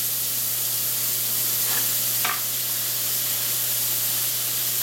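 Ribeye steak sizzles in a hot greasy pan, a loud, steady, close hiss of frying fat with a couple of brief crackling pops and no talking.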